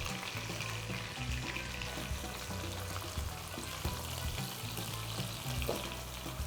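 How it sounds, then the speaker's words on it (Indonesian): Shallots sauté in a pan of reused oil for an Indonesian stir-fry, giving a steady, fairly close crackling sizzle with soft scrapes and knocks of stirring throughout. "Kita mulai numis bawang merah dengan minyak yang sama ya."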